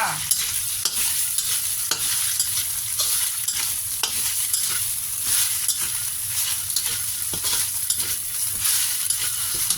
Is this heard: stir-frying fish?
yes